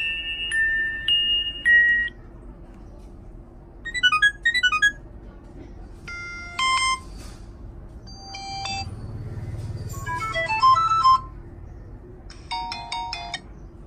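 A Vertu Signature S phone plays its ringtone, a series of bright electronic melodic phrases in short separated bursts over a low background hum, with no talking.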